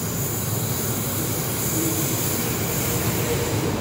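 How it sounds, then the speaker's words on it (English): A train rumbles in toward a station at a border crossing, a steady low roar with a high hiss, sustained and fairly near, with no voices. "This is the train that we saw in the border stations."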